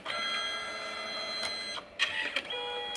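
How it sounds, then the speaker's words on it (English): A Canon SELPHY wireless photo printer runs continuously, its motor whirring steadily with mechanical clicks as the paper feeds back and forth in and out. "space behind the printer because it goes back and forth in and out"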